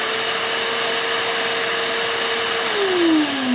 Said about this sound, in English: open up the blower port, and just turn it on.